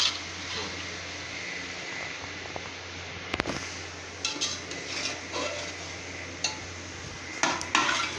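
Okra being gently mixed with spices in a pan, giving soft scraping and stirring with scattered light clinks of a utensil against the pan over a steady low background hum.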